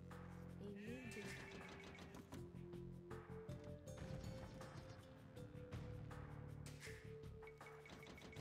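Sheep bleat in the Age of Empires strategy game during a Lithuanians versus Byzantines match, short game-animal calls recurring over busy in-game music and battle effects.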